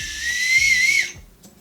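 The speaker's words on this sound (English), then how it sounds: "So it's got a whistle," A small plastic whistle on an emergency keychain gives one sustained shrill blast of about a second, thin and slightly wavering in pitch, then cuts off.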